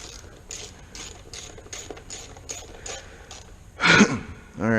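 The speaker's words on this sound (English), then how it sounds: "Once we get these fiddly little bolts back in." A ratchet clicks in a quick series of short strokes while small bolts are tightened back in during a seat latch modification on a Hawk 250 motorcycle, followed by a louder, sharp burst of sound near the end.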